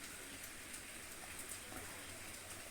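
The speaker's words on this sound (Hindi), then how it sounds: "बारिश हो रहा है" Steady rain falling at night, a dense continuous hiss with faint scattered drop patter, even in level throughout and heard alone without voices.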